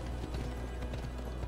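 Horse hooves clip-clop in a quick galloping rhythm in Assassin's Creed Odyssey, close and steady over a dense game background.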